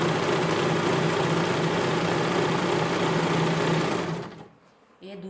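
A sewing machine stitches cloth, sewing leftover suit fabric into a bag. It gives a steady close whirring hum for about four seconds, then winds down and stops near the end.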